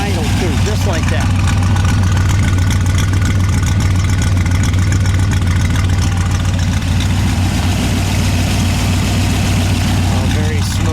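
A 1965 Shelby AC Cobra with a 289 V8 idling close by, a loud, steady low rumble with an even, smooth beat throughout.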